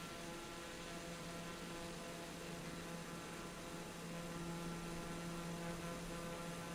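A TBM-930 turboprop drones in cruise flight in Microsoft Flight Simulator 2020, giving a steady, even engine hum with faint tonal whines and no letup.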